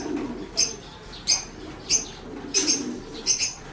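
Racing pigeons coo nearby in soft, throaty calls that come in a loose, regular run, about five calls in quick order, over a low background hum with no talking.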